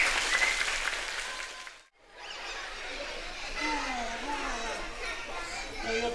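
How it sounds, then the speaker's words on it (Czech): An outdoor summer culture festival audience claps for a boy and girl, a broad burst of applause that drops to a brief hush, then returns beneath children's chatter, laughter and voices. "Zatleskejte klukovi a holce!"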